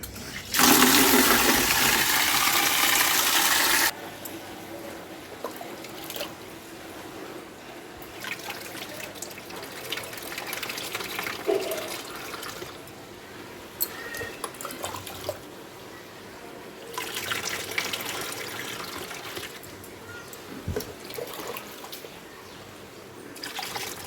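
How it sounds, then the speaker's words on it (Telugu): Water is poured into an air cooler from a bucket: a loud rushing gush for the first few seconds, then a quieter, uneven trickling and splashing that carries on to the end. "కూలర్లో వాటర్ వస్తుంది"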